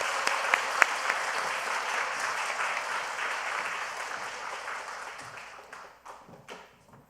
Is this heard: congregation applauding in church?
yes